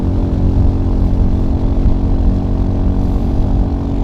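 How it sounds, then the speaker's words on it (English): A Royal Enfield Hunter 350 motorcycle accelerating flat out through third and fourth gear into the wind, a loud steady engine drone with wind rush that holds for a few seconds without talk. "Right, that's full, flat out. Third gear, fourth gear."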